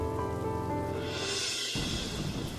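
Steady rain pours down through a monsoon season scene, a broad continuous hiss filling the clip, with background music fading out partway and the rain continuing alone.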